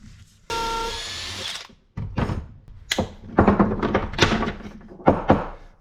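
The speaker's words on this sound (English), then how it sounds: "this is a long drill, I have to make sure I'm going straight" A power drill with a long bit whines steadily for about a second, then a series of grinding, thumping bursts as the bit bores into wood, stopping and starting.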